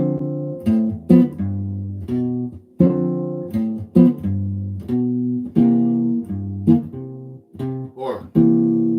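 Guitar chords strummed in a syncopated, stop-start pattern, short choppy stabs alternating with held chords, close and clear with no talking.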